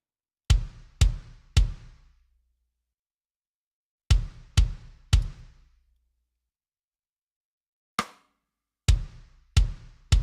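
A drum beat with the main kick drums left out plays as sharp, bright hits in groups of three, with short decays and silent gaps between groups, plus a single quieter hit before the last group.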